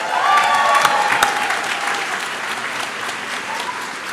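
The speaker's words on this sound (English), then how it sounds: "let's give a round of applause for the wonderful klezmer band today" Seated crowd at the 2024 JTS commencement giving a klezmer band a round of applause, a full wash of clapping from many hands that stays strong and slowly eases.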